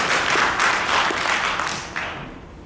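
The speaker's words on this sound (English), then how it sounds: "give yourself a round of applause" A conference audience at a BICSI Middle East event breaks into applause, a dense, steady roar of many hands clapping that gradually fades.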